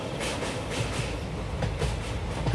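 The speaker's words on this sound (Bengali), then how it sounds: "একটা লম্বা হুইসেল দিয়ে ট্রেনটা ছেড়ে দিল" A cartoon-style train pulls away, its wheels rolling with a steady rumble and rhythmic clickety-clack at moderate volume; no whistle stands out and no one speaks.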